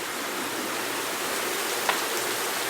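Steady rain falls outside a house at night as a dense, even hiss with one brief sharper tap midway and no voices.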